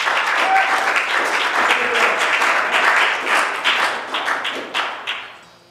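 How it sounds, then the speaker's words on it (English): A concert audience at a songwriters' benefit for a warming center claps loudly and steadily, a thick burst of applause that gradually fades to quiet at the end. "give a big round of applause to yourselves"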